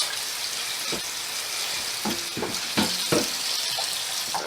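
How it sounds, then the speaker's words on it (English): Tap water running steadily into a kitchen sink while a cutting board is rinsed, a close continuous splashing hiss with a few soft knocks and clatters from the board, no talking. "Rinse off this cutting board."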